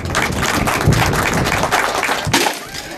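A crowd applauds at an outdoor road handover ceremony, dense clapping that holds steady for a few seconds before thinning out near the end.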